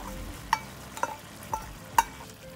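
Big chilies and kaffir lime leaves are stirred into a catfish red curry stir fry, with a quiet sizzle and four clear metallic knocks of the utensil against the pan at a steady pace.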